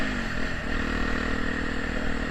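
Honda Tornado motorcycle fitted with a Protork exhaust idling close by, a loud, steady rumbling drone with a slight dip in pitch early on, continuous throughout.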